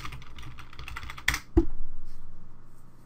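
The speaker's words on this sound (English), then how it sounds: "where we can type in our domain here." Keys clack on a computer keyboard while a domain name is entered, a short burst of light presses followed by two sharper strokes, close and fairly quiet with no voices.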